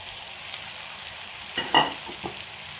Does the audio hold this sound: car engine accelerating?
no